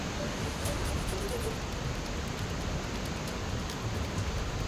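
Heavy rain falls in Nashik while the Godavari river runs in flood, making a dense, constant hiss of downpour and rushing water at steady loudness throughout.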